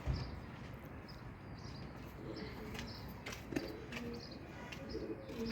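Soft low cooing of pigeons repeating at a distance, with occasional chirps and light rustling over a steady background murmur.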